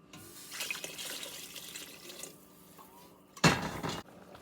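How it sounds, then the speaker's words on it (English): Water splashes and trickles into a pot, a steady pour with a brief louder gush near the end, close by. "We're going to add a little hot water to that too."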